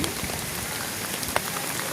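Steady rain patters on a surface in a dense, even hiss, with one slightly louder drop partway through.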